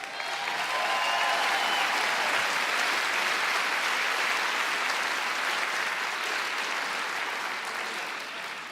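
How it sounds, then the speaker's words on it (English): Loud, sustained applause from a large audience, a dense wash of clapping that holds steady throughout and eases slightly at the very end. "give Susan a big round of applause"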